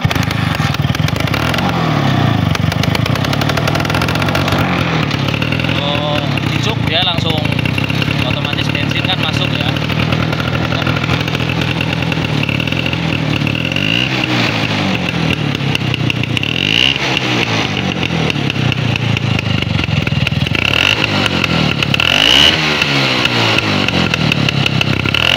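Vespa Excel scooter engine, an original model, started on choke and running with a loud, steady close putter that rises and falls with revs, while someone talks over it.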